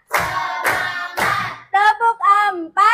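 Schoolchildren in an Indonesian classroom answer a teacher's counting call with three sharp bursts of group clapping in steady rhythm, each burst spaced evenly apart, followed by the teacher speaking.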